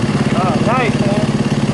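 A CBR 1000 motorcycle engine pulsing in a steady, throbbing rhythm close by, with a voice speaking briefly over it.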